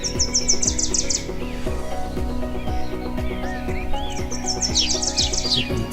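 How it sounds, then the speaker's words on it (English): An oriole sings clear, rapid chirping phrases at the start and again near the end, close and bright over a steady background hum. "The oriole is a medium-sized bird."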